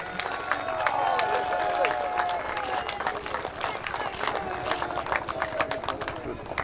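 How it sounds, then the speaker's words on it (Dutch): Outdoor crowd applauding and cheering for the motocross podium riders at the Dutch Masters of Motocross in Oldebroek, steady clapping with voices and a loudspeaker mixed in throughout. "Voor Jeffrey Ellen, geef ze een applaus!"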